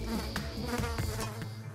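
A swarm of houseflies buzzes in a steady, close drone with wavering pitch, faint and with no voices.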